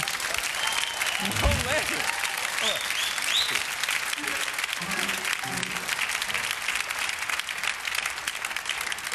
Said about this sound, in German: Sie klatschen immer schon in die Geschichte rein.